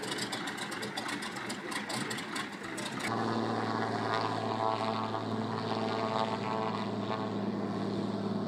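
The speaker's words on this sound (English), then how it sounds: "Planes do not stop long and are soon on their way." A propeller floatplane revs up and roars steadily at close range on the water in Southeast Alaska's Inside Passage, its loud engine drone rising after a few seconds and holding alone.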